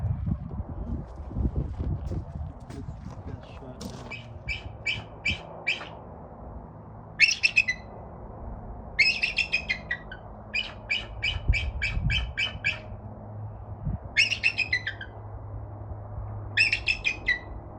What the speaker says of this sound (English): Beautiful bald eagle.